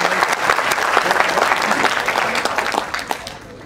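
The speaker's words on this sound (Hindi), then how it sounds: "एक बार मन कर रहा है तो तालियां बजा दीजिए आप" A college audience at a Hindi comic poetry recital breaks into loud, close applause, many hands clapping in a dense, lively burst that gradually thins and fades toward the end.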